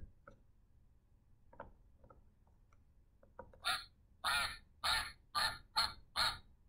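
A run of six loud, nasal duck quacks comes in quick succession after a few faint clicks, close and clear against a quiet background.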